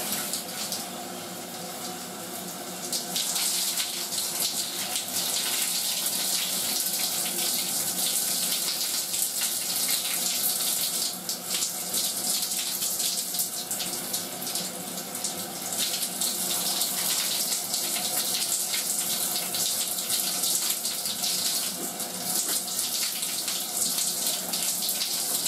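Steady water pours and splashes continuously, a broad hissing spray like a running shower, close and fairly loud throughout with no talking.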